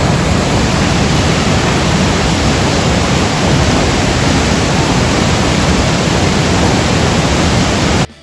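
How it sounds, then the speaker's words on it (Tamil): Johnston Canyon Lower Falls in Banff pours into a round pool, making a loud, steady, broadband roar of crashing water heard up close without pause until it cuts off abruptly at the end. "ஃபால்ஸ்லேருந்து கொட்டுற தண்ணி ஓவர்ஃப்ளோ ஆக"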